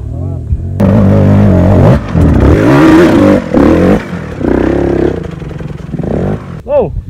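A motorcycle engine revs up and down repeatedly, loud and close, with people talking over it.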